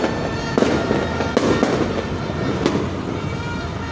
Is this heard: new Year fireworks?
yes